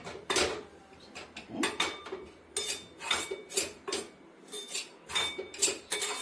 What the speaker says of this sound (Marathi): पण सतत परतवत राहायचं